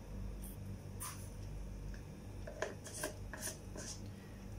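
Mustard seeds crackle and pop in hot oil in a pan, with scattered sharp bursts of spluttering coming in irregular clusters over a steady low hum of background noise.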